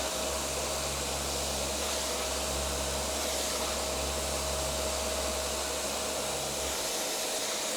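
Electric sanders hum and hiss against a handmade guitar pickguard in a workshop, a constant high whir with a low motor drone pulsing underneath, steady and close with no voices.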